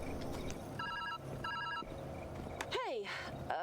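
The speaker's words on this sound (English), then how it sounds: "Phone." A phone rings in the puzzle video game Viewfinder with two short pulsed electronic trills, then a swooping whistle-like game sound rises over low background ambience.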